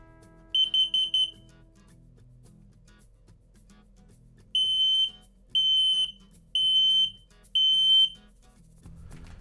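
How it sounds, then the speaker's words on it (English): A series of shrill electronic beeps from a carbon monoxide alarm being tested in an RV: one quick burst of rapid chirps, then four longer loud beeps in a steady rhythm over a quiet hum. "verify the alarm's lights and test the alarm before each trip"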